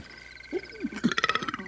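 A toad croaks in a Thumbelina fairy-tale scene, starting with a few low, wobbly croaks and building into a rapid, raspy trilling croak, close and unaccompanied.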